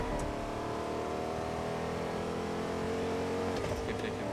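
A car is driven steadily in a video game from Slurpy Swamp toward Catty Corner, its engine a continuous mid-level hum with faint shifting tones and no voices.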